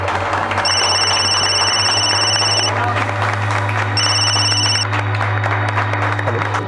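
A telephone rings in two long electronic bursts separated by a pause, over a steady low hum and background noise.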